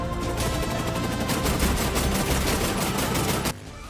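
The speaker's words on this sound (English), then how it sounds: "as Sarah Connor is locked and loaded, blasting away at him" Rapid continuous gunfire from the Terminator 2D: No Fate video game, a dense, loud stream of shots blasting without pause before cutting off abruptly near the end.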